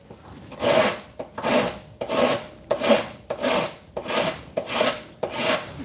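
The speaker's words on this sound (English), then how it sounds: "Let's see if I can sharpen this." A pottery tool is sharpened against a sharpener in eight even, rasping strokes, each about half a second long with brief pauses between, close and fairly loud.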